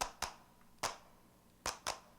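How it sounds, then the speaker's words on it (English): Five sharp hand claps, recorded close to a small microphone as percussion, land in an uneven rhythm with brief quiet gaps between them and a short decay after each. "That's just me here clapping in front of a little mic like 8 times until it feels like a stack of people."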